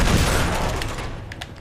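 In Uncharted 2, a grenade blast opens with a heavy low boom that runs straight into a dense burst of overlapping gunfire. The whole burst is loud and close, then thins out over a second and a half.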